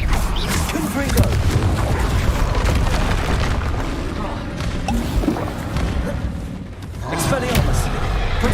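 Confringo blasting spell explosions in Hogwarts Legacy, booming blasts and crashing impacts in dense combat noise, with a voice shouting spell names over the continuous din.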